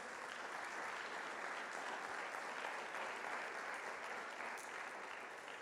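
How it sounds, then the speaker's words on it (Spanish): A church congregation claps strongly for Jesus, a thick, sustained wash of applause from many hands that stays level and full throughout, slightly distant and free of speech. "¿Alguien le puede dar un aplauso fuerte a Jesús?"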